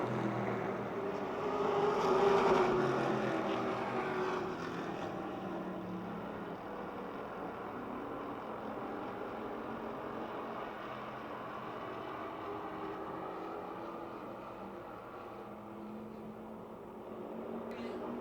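Race cars circle a track at Motordrome Speedway during the closing laps, a steady distant engine drone rising briefly then holding level, with a commentator talking over it throughout.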